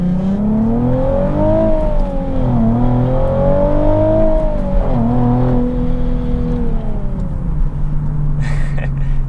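Nissan 370Z Nismo with AAM resonated short-tail exhaust accelerates hard from inside, a loud engine note climbing through gear changes, dipping between shifts and easing off at the end.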